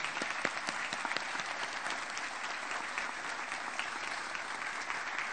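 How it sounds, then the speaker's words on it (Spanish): Sustained applause from a large audience at the public launch of a free school transit pass in Santa Fe city, steady dense clapping throughout with no speech over it. "así que pedimos un fuerte aplauso para todos ustedes."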